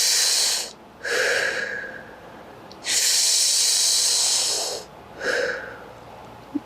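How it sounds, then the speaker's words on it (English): Slow, drawn-out breaths as in a pranayama exercise, long airy inhales and exhales as if drawn through a straw, close and clear, three long hissing breaths separated by short pauses. "you can look at it as if you're breathing through a straw"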